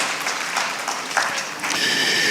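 An audience applauds at the official launch of a Nigerian farmers' soil health scheme, with steady clapping from a crowd that swells slightly toward the end.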